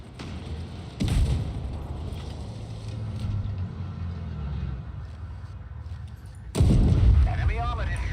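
Tank cannon fire in World of Tanks Blitz: two heavy booming shots several seconds apart, each a sharp loud blast over a steady engine rumble, with no talk.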